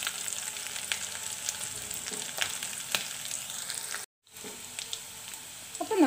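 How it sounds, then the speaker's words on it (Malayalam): Quail pieces deep-frying in oil with curry leaves added, a continuous crackling sizzle at moderate level with a brief dropout partway through, and no voices. "നമുക്ക് കറിവേപ്പില ചേർത്ത് കുറച്ചുകൂടി ഒന്ന് ഫ്രൈ ചെയ്യാൻ വയ്ക്കാം"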